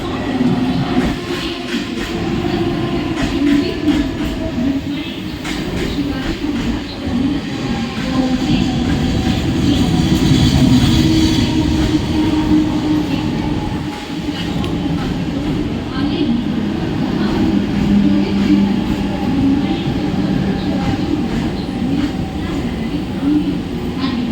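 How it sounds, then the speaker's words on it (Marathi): A Mumbai local train rumbles steadily alongside platform 4, wheels and carriages droning throughout while a public-address voice announces the fast local to Chhatrapati Shivaji Maharaj Terminus over the noise. "प्लॅटफॉर्म क्रमांक 4 वर आलेली लोकल 10:29 मुंबई छत्रपति शिवाजी महाराज टर्मिनसला जाणारी जलद लोकल आहे"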